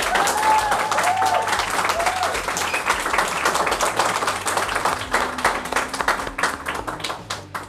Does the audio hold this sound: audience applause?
yes